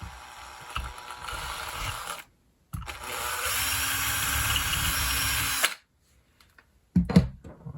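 A small drill bores a 2.5 mm hole into a Fendt 1050 Bruder model tractor conversion kit: a short burst, then a longer steady whirring drill run of about three seconds, ending with a few light clicks and handling knocks.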